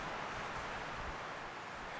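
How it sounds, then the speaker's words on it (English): Constant broadband wind rushing across the high plateau of southern Bryce Canyon, Utah, a smooth hiss without distinct gusts, no talking. "It's very windy today."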